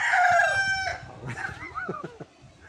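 A Spartan Black street-breed gamefowl rooster crows nearby in one strong, drawn-out call, followed by a few shorter clucks and chatter at a game farm.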